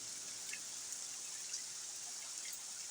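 Steady rain falls beside a porch and patters on a parked car during a thunderstorm, a soft, even hiss with occasional faint drips, quiet and constant.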